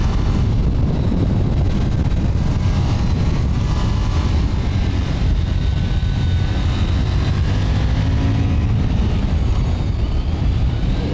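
A KTM 990 Duke R motorcycle on the move, heard as a loud, continuous roar of wind buffeting over a low engine drone, with no distinct gear shifts standing out.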